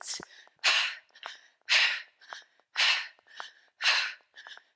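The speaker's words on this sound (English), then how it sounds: "Keep exhaling for 8." Slow, rhythmic breathing during a morning mobility flow: four long, airy exhales evenly spaced about a second apart, each followed by a shorter breath, close and clear with no talk.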